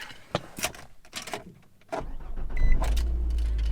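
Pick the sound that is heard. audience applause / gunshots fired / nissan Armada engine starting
nissan Armada engine starting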